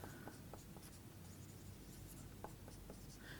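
Handwriting a math problem, a few short scratchy pen strokes close to the mic over a faint steady hum.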